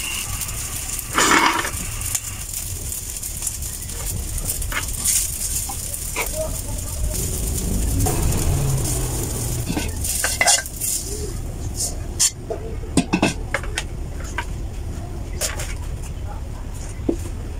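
Fried rice with egg is scooped from a pan onto a plate for breakfast, with scattered scraping and clinking of utensil on cookware over a steady background hum, in a home kitchen.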